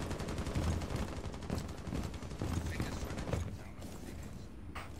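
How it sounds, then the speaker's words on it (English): Video game gunfire shooting barricades open, a steady rattle of rapid shots through the first few seconds that thins out toward the end, heard at moderate distance and fairly quiet. "Where are they shooting barricades open from?"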